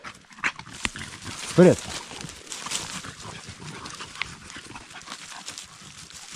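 Dogs running through a forest, with rustling and padding footfalls through undergrowth, a short whine or yelp, and someone speaking over the movement.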